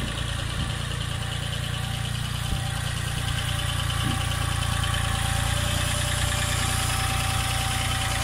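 A tractor engine idles steadily at a building site where a house foundation is being framed, a constant low rumble with a faint knocking beat, close and continuous with no talk.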